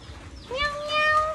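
A person imitates a cat's meow with a single drawn-out, rising and falling vocal meow, close and clear.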